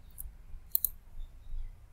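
Two sharp computer mouse clicks in quick succession, near and quiet, during work in STM32CubeIDE copying files, with a faint low hum underneath.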